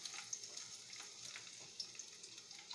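Ginger, garlic and onion frying in a pan for chicken liver and gizzard adobo, a quiet, steady crackling sizzle with small irregular pops, close and alone.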